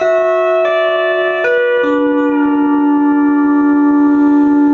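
Sustained pedal steel guitar notes glide and shift in pitch as the A pedal bends them, ringing smoothly and clearly with no voices.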